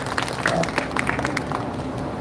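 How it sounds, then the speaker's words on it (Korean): An audience at a Korean citizens' and youth march event claps in a short, moderate round of applause, steady but not loud. "박수 칠만하죠?"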